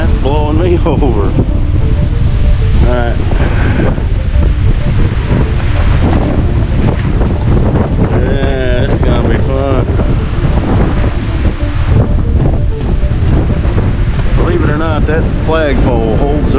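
Strong wind from a severe storm buffets the microphone in a loud, constant roar, with gusting rustle through trees and a person talking intermittently over it.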